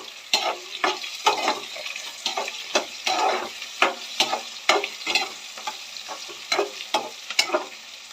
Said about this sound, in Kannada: ಬೇಯಲಿಕ್ಕೆ, ಫ್ರೈ ಆಗೋದಕ್ಕೆ ಬಿಡಬೇಕು ನಾವು